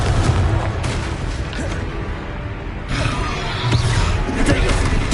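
Confringo fire spell blasts from Harry Potter video game combat at Hogwarts, heavy booming explosions rolling under continuous noisy game action, with a second loud burst near the end.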